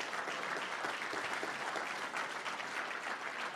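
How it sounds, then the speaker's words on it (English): A crowd at a Washington, DC infrastructure academy launch event gives steady, dense applause, many hands clapping continuously at even loudness throughout. "Let's give Paul a big round of applause"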